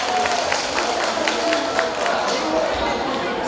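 A crowd at a school reunion gathering of former high school classmates and teachers breaks into a round of applause, a loud continuous wash of clapping mixed with crowd noise and some voices.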